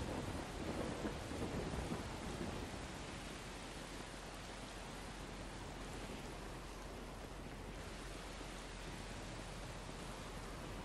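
Heavy rain pours steadily with low rumbling thunder in the Far Cry 3 video game, a dense, constant roar without speech.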